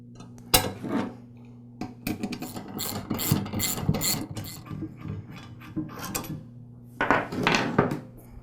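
Metal clanks, taps and ratcheting come from shear bolts being removed from the transmission tine shaft of a Troy-Bilt small frame tiller. Irregular close clusters of clinks are separated by brief pauses.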